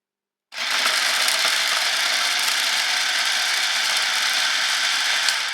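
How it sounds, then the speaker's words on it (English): A food processor chops celery and onions with a continuous loud whirring, grinding buzz that starts abruptly and holds steady at close range. "I'm gonna put it in the food processor so I can saute the celery and onions"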